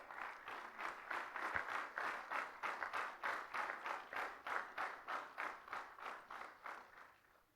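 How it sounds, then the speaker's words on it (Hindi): An audience at a Valor Day ceremony claps in steady unison rhythm, about three beats per second. The sound is fairly faint and distant and fades slightly at the end. "आपकी तालियों की गूंज बनी रहे।"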